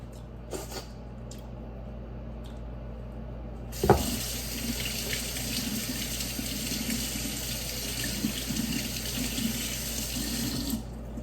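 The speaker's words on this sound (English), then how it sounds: "I'll just rinse off the blade" A knife blade is rinsed under a running kitchen tap: a brief clink, then a steady, close stream of water splashing into the sink that continues for several seconds before cutting off.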